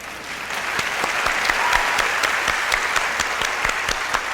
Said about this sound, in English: I'm clapping for my wife